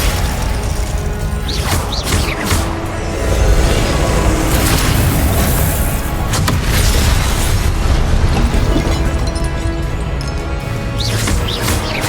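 Repeated blasting-spell explosions from Hogwarts Legacy combat, loud booms and crashing bursts one after another over a dense, rumbling battle bed, with no talk.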